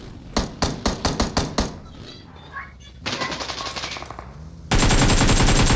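Gunfire from the video game BGMI comes in a quick burst of sharp, closely spaced shots, then a short lull, then a rapid automatic volley, and finally a sustained, very loud stream of fire.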